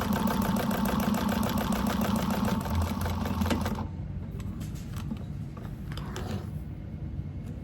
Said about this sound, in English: I'm going to top stitch on both sides of that where that was sewn together.